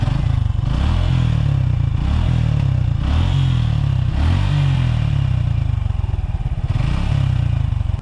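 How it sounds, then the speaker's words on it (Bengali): A 2018 Suzuki Gixxer SF motorcycle engine running close by, a loud steady idle whose throbbing note rises in short repeated pulses. "তো এই হচ্ছে বাইকটির ইঞ্জিনের সাউন্ড"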